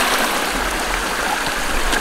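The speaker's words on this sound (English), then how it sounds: "So, our dam is flowing over here" Steady rushing of water spilling over a beaver dam, a loud close stream-like flow with constant gurgling and no pauses.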